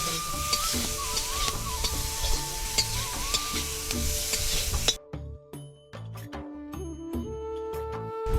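Ripe mango curry with the stone left in cooking in a pan, a steady bright sizzle with stirring scrapes that drops away halfway through to faint, sparse clinks and tonal background sounds.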